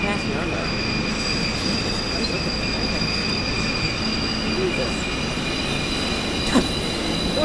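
A metro train on the CCTA Metro Line in the bus simulator game Omsi 2 rumbles by overhead in Cayuga. The heavy rail roar is loud and continuous, with high wheel squeal and a faint clack near the end.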